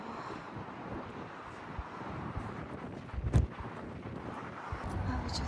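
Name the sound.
cold wind blowing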